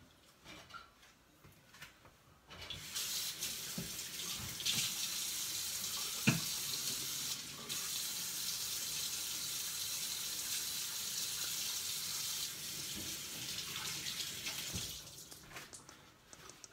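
Tap water runs in a steady, hissing stream for about twelve seconds, measured out for a candy apple syrup of sugar and corn syrup, close and alone, starting and stopping abruptly.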